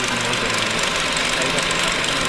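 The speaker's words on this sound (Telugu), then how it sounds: "అంటే ఇది మోటార్ రన్ అవుతుంది." A vertical milling machine's motor runs steadily and loudly as its bed moves, a continuous mechanical hum with a faint rattling vibration throughout.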